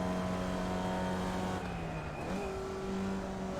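A Formula Vee race car engine at Lime Rock Park in iRacing drones steadily with a shifting pitch as it changes gear, loud and continuous, with no voices.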